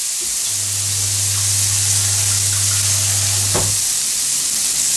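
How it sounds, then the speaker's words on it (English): The last batch of beef browns in a frying pan for a slow cooker stew, a loud, continuous close sizzle with a low hum running under it and one brief clink near the end. "so this is the last batch of beef into the frying pan"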